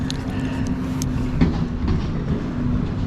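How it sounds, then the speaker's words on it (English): A garbage truck rumbles nearby outdoors beside a river during steelhead fishing, a steady low engine drone with a faint hum and occasional clanks. "Oh, you could probably hear the garbage truck behind me."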